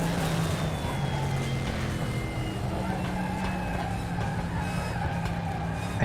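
Group 5 race car engine in the RaceRoom racing game, a steady, loud droning roar with sustained tonal harmonics that holds constant throughout without pauses or speech.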